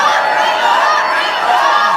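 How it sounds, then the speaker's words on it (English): Crowd at a poetry open mic cheering and clapping for the last poet, a dense, continuous roar of hands and voices that stays loud throughout. "We're clapping, we're building energy, we making all the noise for Joan May."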